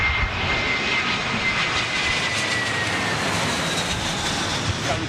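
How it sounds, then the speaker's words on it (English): An Emirates jet airliner goes around for a second approach, a loud, sustained engine roar carried from a distance, broad and steady across the whole stretch. "So we've got the Emirates coming around for his second coming around again."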